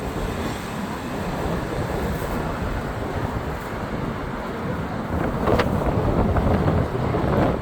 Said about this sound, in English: Lot of wind here